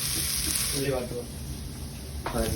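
Onions sauté in a hot pan for a masala curry with a bright, steady sizzle, while people chat close by over the frying.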